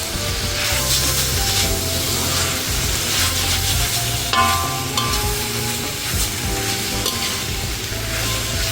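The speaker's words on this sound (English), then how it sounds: "I like mine a little toasty, so I'll let it fry off." A Mongolian dish with tofu frying in sesame oil, a steady loud sizzle with rhythmic scraping and stirring strokes of a utensil across the pan.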